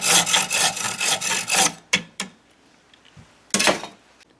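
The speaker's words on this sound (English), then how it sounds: "The rods can be easily cut with a hacksaw." A hacksaw cuts through fiberglass rods in rapid back-and-forth rasping strokes for almost two seconds, then stops. A few separate scrapes follow after short pauses. The sound is close and fairly loud, with nothing else behind it.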